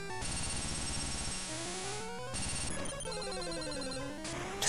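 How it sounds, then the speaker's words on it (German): Rock Slide attack effect from the Game Boy game Pokémon Yellow: a dense, loud burst of harsh chiptune bleeps and descending tones running continuously for several seconds, with a brief dropout and a sharp closing hit. "Jetzt muss ich den Steinhagel mir auch nochmal anhören, kurz."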